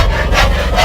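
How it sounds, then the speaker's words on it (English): A loud synthesizer sound whose filter slope rises produces a raspy, buzzing tone over a strong low drone, with brighter sweeps surging through it in under a second. "I increased the slope of the frequency, so as it went up it just made this crazy sound."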